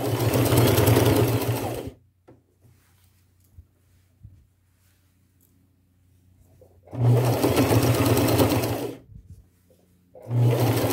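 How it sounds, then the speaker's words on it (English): A sewing machine runs a straight stitch along a long fabric ruffle in three loud, close bursts of steady whirring buzz, with short quiet gaps and faint handling noises between them. "I'm going to use a straight stitch because this is a lot of sewing."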